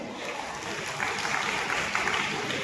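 Audience applause at a Telugu literary event honouring a film lyricist, a moderately distant, even roll of clapping with slight swells and no speech.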